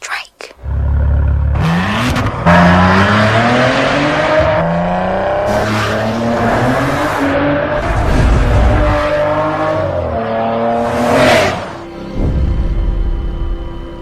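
A car in an advert drives past with engine revving and rising, falling tire squeals across several passes, loud and close, broken by short whooshing swells and brief pauses.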